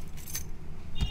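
Keys jangle as they are set down on an anti-slip rubber pad inside a car, a short metallic clink and rattle with a soft thump at the end, close and clear.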